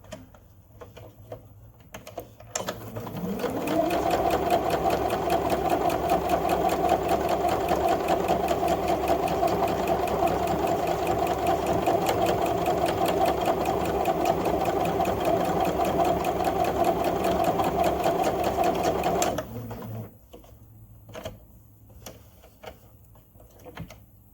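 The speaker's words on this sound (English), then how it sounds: "You'll enclose the twist tie nose piece with a straight stitch, making sure that you're backing up at the beginning and the end of it too" Sewing machine running a straight stitch to enclose a twist-tie nose piece on a fabric mask, a fast even whirring hum that starts after a few seconds, runs steadily for about sixteen seconds, then stops.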